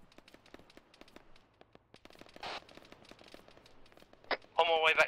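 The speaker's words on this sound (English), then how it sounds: "Heavy fire coming down the main road." Gunfire in the military game Arma 3, a rapid run of sharp, crackling shots with bursts and a louder volley at the end, heard beneath radio-style voices talking.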